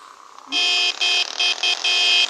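A vehicle horn honks in a run of loud, close blasts, five in quick succession with short gaps between them.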